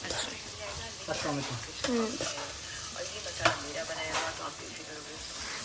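Tomato and capsicum frying in a pan with onion and carrot, a continuous soft sizzle with scraping stir strokes and a sharp tap of the spatula partway through.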